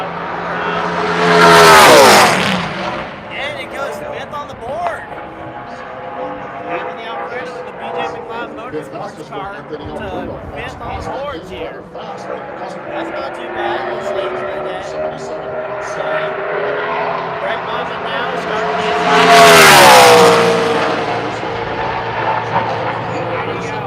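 NASCAR Xfinity race cars at Charlotte Motor Speedway roar past in two loud, close passes with a rising-then-falling engine whine, and a continuous engine drone and commentary-style talk fill the gap between.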